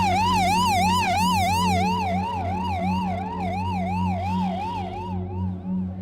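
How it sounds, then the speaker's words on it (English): An ambulance siren wails loudly and close, its rising-and-falling tone cycling steadily over a low engine drone, then fading slightly toward the end; no one speaks. "We've just been told that the ambulance is on its way back to this area."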